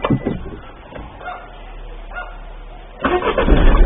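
A car engine cranks and catches near the end, a sudden loud burst of rumbling after a few quiet seconds and some brief thumps.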